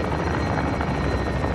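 Redeploy drone hovering overhead in Call of Duty Warzone, a steady, loud rotor-like whir with a pulsing low throb that holds unbroken throughout, close and alone without voices.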